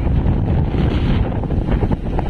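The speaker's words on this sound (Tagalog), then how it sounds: "So ayan, napakalakas mo ng hangin." Strong wind buffets a fishing boat out at sea, loud roaring gusts blasting the microphone in a continuous heavy rush with low rumbling swells beneath.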